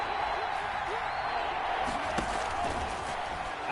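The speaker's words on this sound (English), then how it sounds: "The crowd getting into it as we come up on a big third down." A football stadium crowd roars in a steady, broad wash of noise ahead of a big third down in a Dolphins versus Packers game, with faint bangs and scattered shouts rising within the din.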